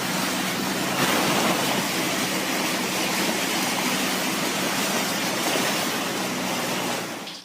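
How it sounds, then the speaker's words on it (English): Hail-filled floodwater rushes down a street in Boise, Idaho, a loud steady torrent of broadband roaring water that continues unbroken and then tapers off at the end. "Yet again, it's like a glacial hail river street."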